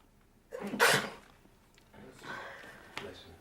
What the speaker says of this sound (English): we don't want much sneeze in there